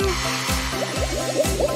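A cartoon child pees into a toilet, shown as a bouncy run of bubbly trickling and plinking water sounds in a quick rhythm, close and fairly quiet.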